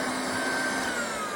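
A heavy-duty hair-dryer-style heat gun runs steadily, a loud continuous fan whine and airy roar with a thin high tone, no voices.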